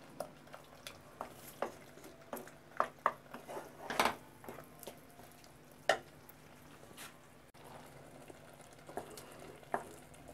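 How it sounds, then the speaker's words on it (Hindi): Masala for fish stew fries in a pan with a faint, steady sizzle, broken by scattered clinks and scrapes of a spoon stirring against the pan. "इसको भून के फिर हम डालेंगे इसमें फ़िश"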